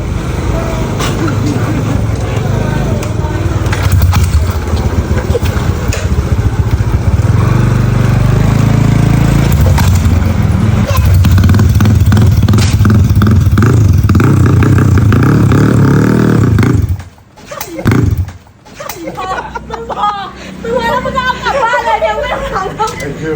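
A motorcycle engine runs loud and close during a riding lesson, a continuous rough drone with revs rising and falling, briefly cutting out before restarting, while people talk over it.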